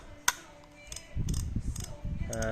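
A few sharp mechanical ticks and clicks from a vintage Daiwa EX-1000 spinning fishing reel, close up, with a low rumbling handling noise beneath for the latter half.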